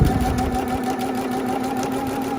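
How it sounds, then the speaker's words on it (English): A sewing machine stitches a quarter-inch seam while piecing flying geese quilt blocks, running in a steady, close, continuous motor hum with a fast, even needle rhythm throughout. "we're going to sew our 1/4 inch all the way over"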